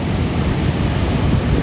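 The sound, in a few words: big ocean wave coming in on flooded island rocks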